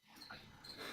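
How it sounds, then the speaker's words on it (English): Crickets chirping outdoors, a faint, high, continuous trill at low level in a brief stretch with no talking. "Are the crickets coming through the microphone?"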